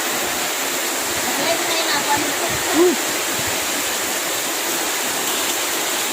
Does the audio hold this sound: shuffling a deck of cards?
no